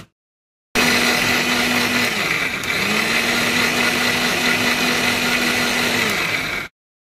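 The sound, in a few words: blender grinding ginger, garlic and onion into paste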